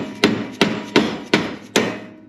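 A hammer strikes a Porsche 914 rear suspension trailing arm five times at a steady, moderate pace. Each blow is a sharp, close, loud metallic knock with a short ringing decay, and no one speaks.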